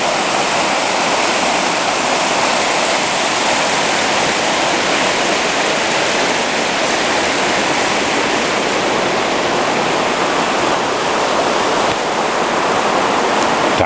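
The Toccoa River rushes beneath a suspension footbridge in Georgia, a steady loud broadband roar of flowing water with no voices, constant throughout.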